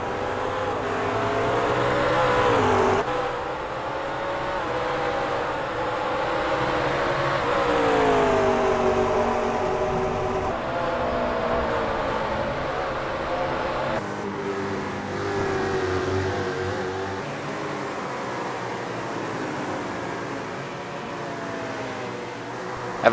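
Grand Am race cars battle through a chicane, a continuous layered engine roar rising and falling as the cars brake and accelerate, sounding moderately distant throughout.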